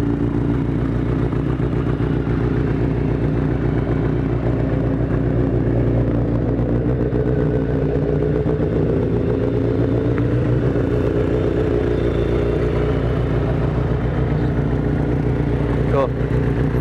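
A 1983 Kawasaki GPZ-550 motorcycle engine idles steadily and slightly high, a continuous loud low rumble with mechanical clatter throughout, close to the microphone.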